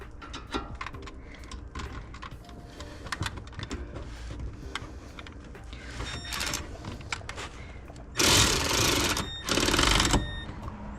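Rapid ratcheting clicks from tightening a rear brake caliper bolt on a BMW G80 M3 during a brake pad service, close by and steady, then two louder, harsher mechanical bursts near the end.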